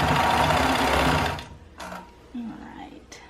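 A sewing machine runs steadily for over a second, then stops, leaving soft handling noises and a faint voice.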